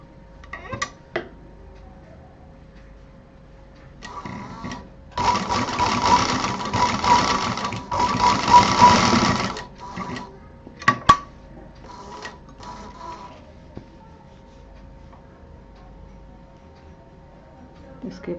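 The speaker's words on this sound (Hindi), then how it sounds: "इस तरह से मिलाएंगे और इसको भी सिल देंगे।" A sewing machine stitches a handmade fabric hot pot pad. It runs in a steady whirring burst of about four seconds and gives a few short clicks and taps around it, and someone talks quietly in between.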